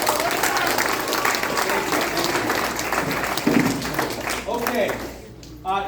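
Audience applause at a Winnipeg Beach election forum, a loud, dense burst of clapping that thins out and fades toward the end, followed by a person beginning to speak.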